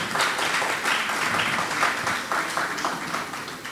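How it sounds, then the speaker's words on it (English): Steady applause from an audience at a live educational broadcast event, a dense wash of clapping hands that holds at an even, fairly loud level throughout with no voices on top. "I think the Registrar deserves a more resounding applause than that."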